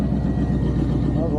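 A classic car's engine roaring loudly and steadily during a burnout, a dense low rumble from close by with a voice speaking over it.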